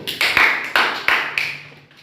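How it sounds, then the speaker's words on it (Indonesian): A school class claps for a presenting group in a room: about five sharp, ringing claps in a loose, uneven rhythm, each fading quickly, with no talking over them. "Tepuk tangan untuk kelompok"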